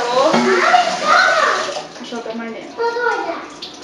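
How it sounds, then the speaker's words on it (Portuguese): Running water pours and splashes while dishes are washed at a sink, close and fairly loud, with an adult and someone talking over it. "Eu vou lavar essa louça."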